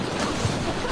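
An artificial surf wave roars steadily in a wave pool, a loud, continuous rushing wash of water with a brief low surge near the middle.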